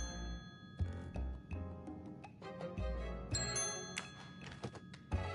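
A smartphone alarm rings inside a murder-mystery video game set on the Orient Express, giving repeated bright jingling, tinkling chimes against the game's music and effects, with no talking.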